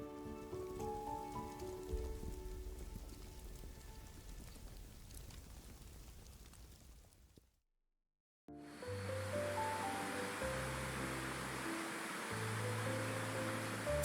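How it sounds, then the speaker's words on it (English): The Three Gorges Waterfall in China, 253 feet high, gives off a steady hissing rush of falling water under soft music, broken by a brief silence midway before the roar resumes. "Three Gorges Waterfall is the largest waterfall in China, with a height of up to 253 feet, creating a powerful and magnificent flow of water"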